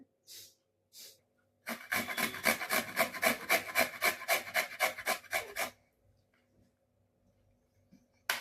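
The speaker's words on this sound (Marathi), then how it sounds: "असे मोठे मोठे गाजर घ्यायचे म्हणजे आपल्याला खिसायला येतं" Large washed carrots rasp against a grater for carrot halwa: two short strokes, then a steady run of about fifteen rhythmic, close grating strokes before the sound stops, with no talking.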